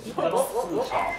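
A Shiba Inu gives a quick series of short, close yips and barks, several rising-and-falling calls in about a second, with voices nearby.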